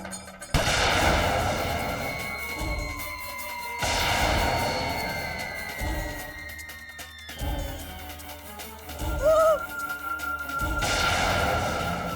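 Loud gunshots go off several times, each sharp blast followed by a ringing decay, with a few seconds between shots. No speech is heard.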